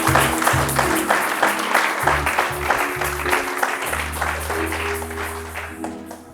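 A church congregation claps and cheers together, dense rhythmic applause mixed with voices and a sustained low organ or keyboard chord underneath, fading slightly toward the end.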